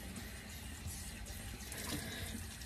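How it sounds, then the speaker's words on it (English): Warm water flows steadily from a bathroom tap into a sink during a skincare routine, an even, moderately quiet splashing rush with no one speaking. "That's why I hate having the water running."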